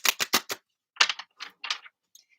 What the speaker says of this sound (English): Let's get a really good shuffle for you